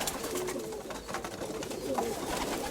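Pigeons cooing softly amid outdoor background noise, a few low throaty coos rising and falling with no talking.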